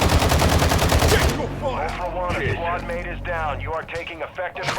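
Gunfire in a Call of Duty DMZ raid on Ashika Island: a burst of rapid automatic shots up front, then players talking over quieter game sounds.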